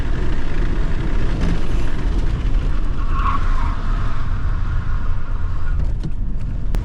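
A big-block 460 Ford F350 pickup, revived after years of sitting, skids hard as its brakes lock, giving a loud, steady rasp of tires dragging across pavement for several seconds, alone with no voices.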